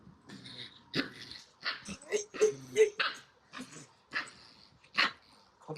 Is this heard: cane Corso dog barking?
yes